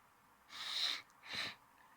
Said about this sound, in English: ignore my sniffling because I got a little bit of I got the sniffle